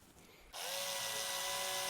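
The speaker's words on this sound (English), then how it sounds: "I'm just going to drill these in now." A power drill spins up after a brief quiet moment and whines steadily at high speed, driving screws into plywood for a DIY acoustic panel, loud and close with no talk.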